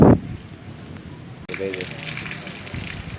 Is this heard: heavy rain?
yes